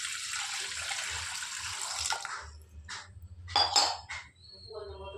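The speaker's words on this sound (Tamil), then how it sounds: "தேவையான அளவு தண்ணி ஊற்றிக்கலாம்." Water is poured into a cooking pot on a gas stove, giving a steady splash that stops partway through, followed by a few pot and utensil clinks and some faint background noise.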